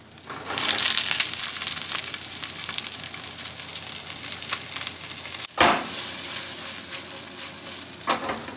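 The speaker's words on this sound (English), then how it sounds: "We're gonna cook the aubergine off first." Aubergine fries in a little hot oil in a pan, giving a loud, steady close-up sizzle and crackle with a few brief stirring scrapes.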